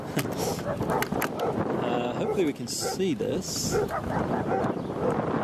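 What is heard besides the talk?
dogs barking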